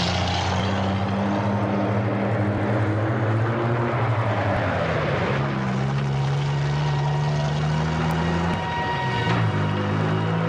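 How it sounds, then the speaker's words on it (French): A truck engine runs steadily on the move, a loud continuous drone whose pitch dips and shifts as it works, with no voices over it. "On va arrêter le camion par là"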